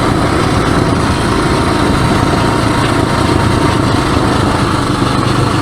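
A 1978 Suzuki DR370 motorcycle engine runs continuously, loud and close, with a steady buzzing drone and no clear change in pitch.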